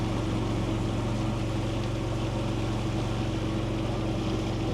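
A boat on Khlong Mahasawat in rural Nakhon Pathom, Thailand, driven by a Toyota-type motor with open straight-pipe exhaust, drones steadily and loudly throughout, a constant low rumble with no talk over it.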